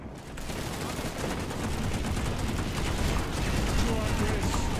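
Sustained heavy gunfire in a shooter video game as a squad focuses fire on a Banshee aircraft, a dense, continuous rattle of shots with voices talking underneath throughout.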